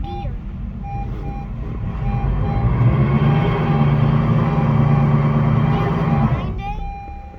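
A worn front wheel bearing on a 2014 Honda Civic: a steady droning whir rises and holds as the wheel spins, with a faint high tone above and a low rumble underneath, then winds down.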